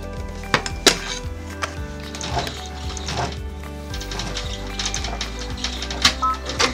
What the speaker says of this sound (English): I'm going to lay my second little panel of felt down, tape it into place, and then run another tack down stitch.